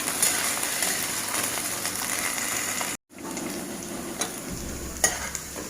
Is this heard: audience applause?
no